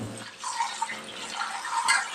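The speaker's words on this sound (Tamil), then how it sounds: "தண்ணி ஊற்றி கழுவிட்டு அரிசி கீழே விடாம" Rice being rinsed in water, with a continuous soft sloshing and splashing of liquid at close range and a few brighter drip-like splashes, fairly quiet throughout.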